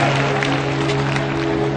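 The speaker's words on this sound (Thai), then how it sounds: "สียงรบมืออีกครั้งนึงครับเทศบาลตำบลห้วยใหญ่ครับ" An audience claps for a municipal team at a Chonburi sports league ceremony, a brief, even wash of applause over a steady low hum.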